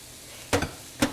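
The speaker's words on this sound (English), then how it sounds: "I'm going to put this shredded carrots in the pan." Shredded carrots dropped into a pan with jackfruit for a vegan barbecue sandwich: two short bursts of scraping and sizzle about half a second apart, close but fairly quiet, over a low background hiss.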